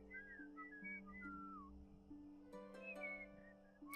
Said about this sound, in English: Rather a lot of whistling going on